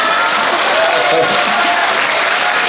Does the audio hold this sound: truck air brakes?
no